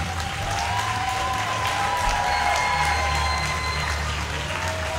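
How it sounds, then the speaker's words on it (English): A dense, continuous roar of applause and cheering fills a wrestling arena after a Logan Shulo vs Sami Callihan match, steady and loud from start to finish. "get up off your feet and give these guys a round of applause"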